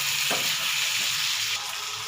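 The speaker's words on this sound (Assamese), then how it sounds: "এতিয়া গেছৰ ফ্লেমটো হাই কৰি দিম আৰু বিলাহীখিনি মিক্স কৰি দিম।" Tomatoes sizzle and fry in a pan over a high gas flame while being stirred for a chicken dish, with steady close frying hiss and a few soft scraping stirs.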